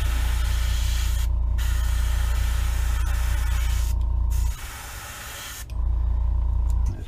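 Aerosol or airbrush paint sprayed onto a blank fishing lure for a holographic minnow finish, a loud steady hiss in three bursts with two brief pauses, close and alone.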